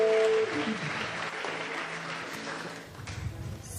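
A church congregation applauds during a prayer service: a moderate, steady patter of clapping that carries on throughout and rises briefly near the end, with a short sustained tone at the very start.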